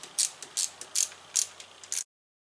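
A ratchet works on small 8mm VCT bolts of a Ford 2.0L Zetec engine in an Escort ZX2, giving six crisp, evenly spaced clicking bursts up close before stopping abruptly; no one speaks.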